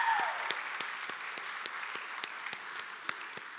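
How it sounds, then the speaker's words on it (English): Applause from the audience at a college signing-day ceremony, soft and a little distant, with a few sharper individual claps standing out above the steady patter. "Can we give Boomer a round of applause?"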